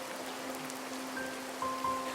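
Rain falling in a cartoon, a soft steady patter of raindrops with a low constant hum underneath and a couple of faint tonal beeps near the end, with no voices.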